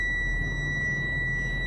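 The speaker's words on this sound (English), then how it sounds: "So that beeping is us airing up." A 2021 Newmar Canyon Star 3513 front-engine diesel RV gives a steady high beep while its air system fills, heard over a low engine rumble with no talk.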